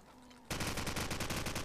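SMG fire in a competitive video game match breaks in suddenly after a quiet moment, a loud rapid stream of close shots in a steady automatic rhythm.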